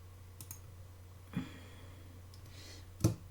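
A computer mouse clicked while recoloring artwork in Adobe Illustrator, giving two crisp, close clicks about two seconds apart plus a fainter one earlier, over a low steady hum.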